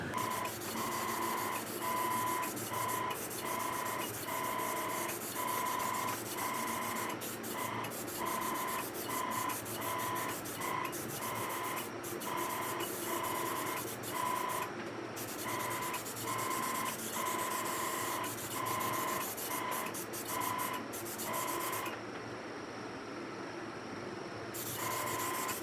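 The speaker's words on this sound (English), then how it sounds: "I'm going to tape this up and do a light sanding to it" Light hand sanding on the finish of a 1960s Truetone guitar body, a steady rhythmic rubbing with regular strokes close by, no talking, ending in a short pause.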